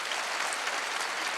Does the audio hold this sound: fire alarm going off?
no